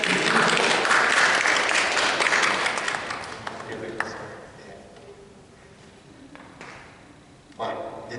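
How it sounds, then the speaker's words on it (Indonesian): Congregation applause for a newlywed couple at an Indonesian-language Catholic Mass, a loud burst of many people clapping that fades after a few seconds, followed by quieter room noise and a voice starting to speak. "Mari berikan tepuk tangan."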